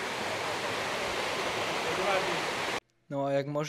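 Waterfalls on a hiking trail near Terchová, Slovakia, roar as steady, dense rushing water for nearly three seconds, then cut off abruptly before a voice begins speaking.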